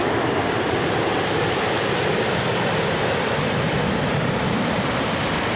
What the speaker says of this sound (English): So this is the French River.